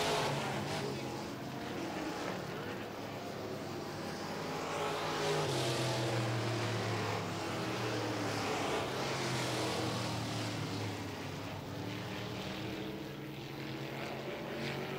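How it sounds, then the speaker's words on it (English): Modified race cars in a heat race roar around the backstretch of a dirt oval at night, a continuous blended engine drone swelling and fading as the pack passes at a distance. "the cars are pretty much going through the backstretch"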